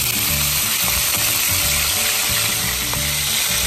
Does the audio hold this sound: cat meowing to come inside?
no